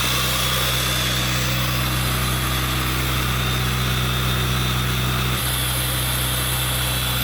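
RX-7 rotary engine powering a Miata pit truck runs loud and close at a steady idle, a continuous buzzing drone with a brief shift in tone near the end.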